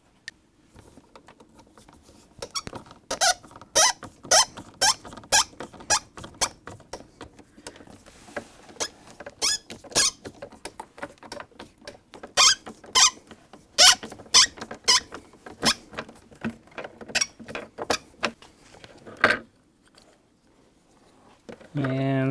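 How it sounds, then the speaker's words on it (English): A T20 screwdriver backs out the four clamping screws on a GM Ultium Level 2 EV charger. It gives quick, close ratcheting squeaks and clicks in bursts, with a pause near the end. "it says we need to remove all 4 of these clamping screws"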